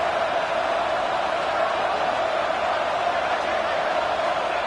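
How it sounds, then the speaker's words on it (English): Steady, dense stadium crowd roar fills a college football video game, a loud, unbroken wash of noise that holds at the same level throughout. "listen to this crowd noise. This stadium is vibrating."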